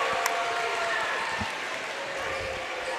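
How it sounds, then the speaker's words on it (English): Crowd noise fills a high school basketball gym during a Caldwell County Tigers game, a steady roar of fans with a faint ball bounce or two and some talk blended in, loud and continuous throughout. "I like how the crowd is into it tonight"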